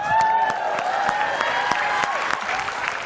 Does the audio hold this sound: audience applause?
yes